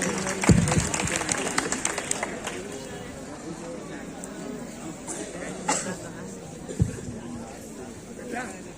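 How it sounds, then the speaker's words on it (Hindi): Applause from an audience welcoming an actor at a school annual function play, with scattered claps and crowd noise under murmured voices, loudest at the start and fading to a softer background. "तो चलिए हमारे नेताजी का जोरदार तालियों से स्वागत कीजिए।"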